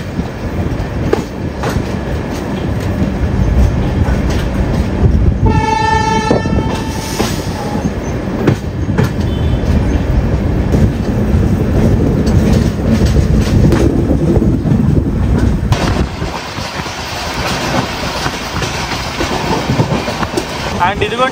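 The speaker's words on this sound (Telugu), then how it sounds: "అండ్ హార్న్ వేసేసాడు" The Jodhpur to Kacheguda Hisar Special Express rolls along with a continuous loud rumble and rhythmic clatter, and a clear horn blast sounds for a couple of seconds midway before the rolling noise carries on.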